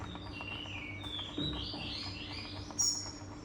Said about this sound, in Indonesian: itu ada suara burung, itu ada banyak ya, ada suara burung kacer, ada suara murai